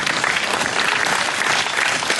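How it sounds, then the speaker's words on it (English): County fair crowd applauding loudly and steadily, a dense, continuous wash of clapping with no pauses. "Okay, let's give a big round of applause."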